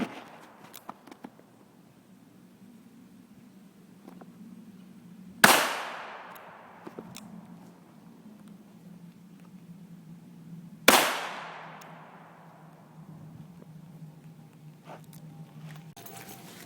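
Two sharp pistol shots crack outdoors about five seconds apart, each followed by a decaying echo, with faint background noise and small taps between them.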